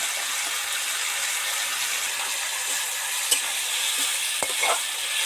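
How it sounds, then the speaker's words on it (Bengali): Steady crackling sizzle of spices frying in a pan, with a few brief scraping clinks of a stirring utensil near the end. "সুন্দর করে মশলাগুলো ভাজা হচ্ছে"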